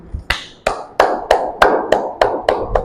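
Hands clap in a steady, evenly spaced rhythm, about nine sharp, close claps ringing out alone with no talk over them.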